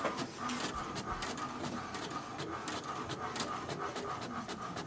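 An HP DeskJet 4100 inkjet printer prints a welcome sheet, giving a steady, loud mechanical whir broken by rapid repeated clicking bursts as the carriage moves, with no talking.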